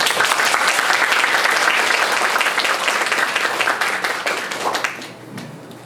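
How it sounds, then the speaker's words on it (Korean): Loud, dense audience applause in a lecture hall welcoming a doctor to the stage for a special lecture on the Fourth Industrial Revolution, sustained clapping that thins out and fades toward the end. "자, 우리 강민호 박사님을 큰 박수로 모시겠습니다."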